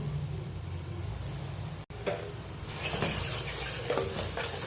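Spice paste with salt, turmeric, coriander, cumin and chilli powder fries in a pan, a soft sizzle that swells into brighter crackling as a spoon scrapes and stirs it, close by and without talk.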